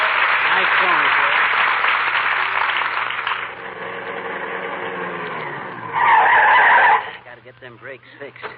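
A loud, sustained tire screech from a car skidding to a stop, used as a sound effect in an old-time radio comedy show; the squeal runs several seconds, flares again near the end, then cuts off.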